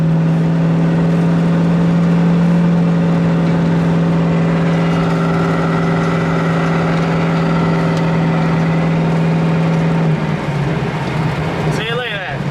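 A race car cruises on the street with a loud, humming engine drone heard from inside a sparsely insulated cabin; the pitch holds steady, then drops as it slows, with a brief clatter at the end.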